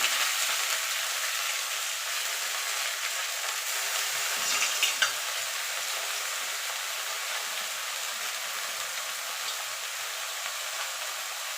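Red amaranth greens sizzle in a pan of oil with lightly fried garlic, a constant, fairly quiet hiss broken by a brief clatter of stirring midway; no one speaks.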